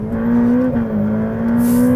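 A Ferrari F8 Tributo engine holds a loud, steady high-rpm note with a slight dip and recovery midway, heard up close with no talking over it.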